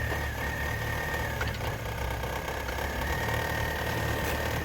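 A 2008 Pontiac G6 engine runs at a steady idle on a jump box, humming evenly and fairly quietly as it is put in gear.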